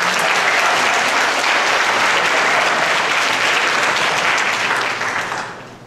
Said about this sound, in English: Can you give our translators at the back a big round of applause for keeping up?